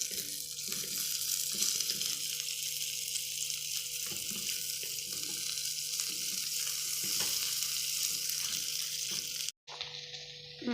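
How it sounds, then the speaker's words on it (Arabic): Butter frying in a pan as a steady hiss, with faint rhythmic scraping and a brief drop to near silence near the end, no voices present. "انا نحمر شويه زبده"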